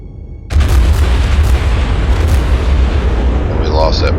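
Heavy naval guns firing from a warship in World of Warships, a sudden loud boom followed by a sustained deep rumble, with splashing effects near the end.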